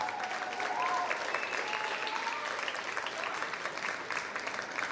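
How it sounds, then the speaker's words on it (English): Audience applause for a high school district honor jazz band after a performance, dense and steady clapping throughout with faint crowd sounds mixed in. "Give me one more round of applause, everybody."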